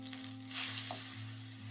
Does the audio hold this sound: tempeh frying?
yes